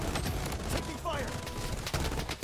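Rapid gunfire in the shooter game Bloodstrike, a dense burst of shots under a player's voice, with a few fast rattling volleys.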